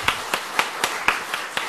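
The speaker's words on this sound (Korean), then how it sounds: "하나님께 영광의 박수 드리고요" Congregation in a church clapping in a steady, evenly spaced rhythm, about seven sharp claps over under two seconds, close and moderately loud with no talk.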